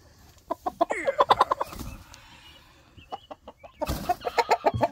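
Chickens cluck in short rhythmic bursts inside a coop, including a spurred hen, with a quieter gap in the middle before another close run of clucks.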